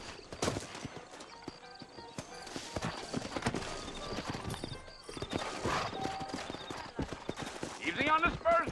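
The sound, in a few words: horses clip-clopping, from a video game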